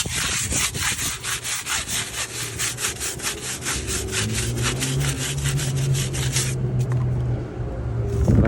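Stiff brush scrubbed hard over a car tire while cleaning Vogue tires, a steady rhythmic back-and-forth rasping for about seven seconds, close and loud, then stopping.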